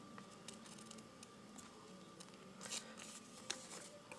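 Scissors cut through folded paper on both sides, giving a faint run of small snips and crisp paper rustles, with a couple of sharper cuts near the end.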